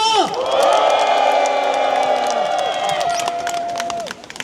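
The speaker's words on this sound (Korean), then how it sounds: "여러분의 힘찬 박수와 함성으로 출발하겠습니다" A crowd at a Korean political rally roars with cheers and whoops over clapping, loud and sustained before fading out near the end.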